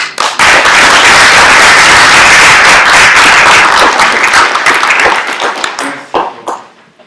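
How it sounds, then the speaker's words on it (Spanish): Loud applause from a crowd at a political event, dense rapid clapping that holds steady for several seconds, then thins out to scattered claps and fades. "con ustedes el maestro Porfirio Muñoz Ledo, para quien pido una fuerte recepción con un aplauso."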